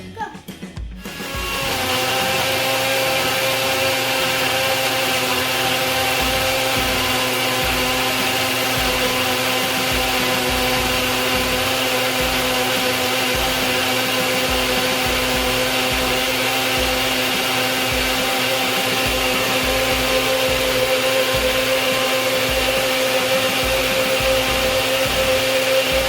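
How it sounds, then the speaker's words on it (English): A Nutribullet Magic Bullet blender whirs a smoothie in one loud, continuous run lasting over twenty seconds after a short rattle at the start. "So today I'm using the Nutribullet Magic Bullet."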